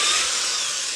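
A drill bores into acrylic for a harvester ant formicarium, giving a brief, steady, high-pitched whine that holds at an even level.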